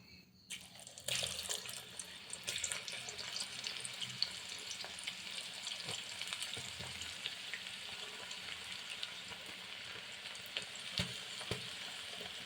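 Banana slices deep fry in hot oil for chips, giving a steady, dense sizzle and bubbling that runs close and even throughout, with a few faint clinks and no talking.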